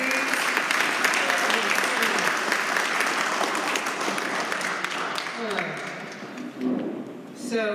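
A crowd at an awards gala breaks into sustained applause, dense clapping that holds steady and then thins toward the end, with a few voices calling out beneath it.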